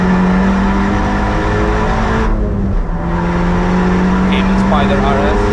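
A Cupra R hatchback on the Nürburgring accelerates at full throttle, its engine droning loud and steady from inside the cabin with a brief dip at a gear change, as a driver talks over it.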